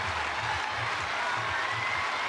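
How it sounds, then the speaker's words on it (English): Stadium crowd at the Bislett Games pole vault in Oslo rhythmically clapping and cheering behind a vaulter on his third attempt, a broad, steady roar with a pulsing clap beat. "The crowd really trying to get behind him."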